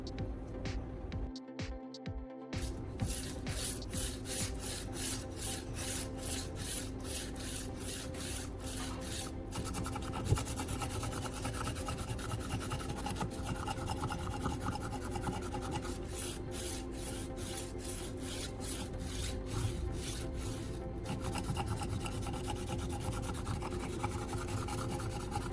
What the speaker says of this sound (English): I repeat the same sharpening process to make sure both sides of the cutting edge are sharpened